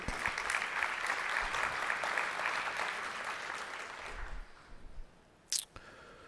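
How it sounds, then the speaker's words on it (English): An audience at a childhood obesity conference opening plenary applauds in a sustained, dense clatter of clapping for about four seconds, then it thins out and fades to scattered claps and quiet room noise. "I believe you should give yourselves a round of applause"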